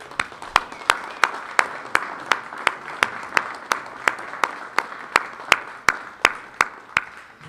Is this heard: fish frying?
no